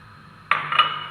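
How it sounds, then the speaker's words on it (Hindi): Cloves dropped into a pot holding a cup of water, making a sudden bright metallic clatter and rattle that rings on briefly after a quiet start, with a second small clink near the end. "इसमें अब हम अपने लौंग डालेंगे"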